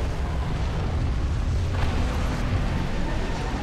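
A frag grenade detonating in a first-person shooter game, heard as a loud sustained rumbling roar that fills the whole moment, dense and noisy with no distinct onset or fade.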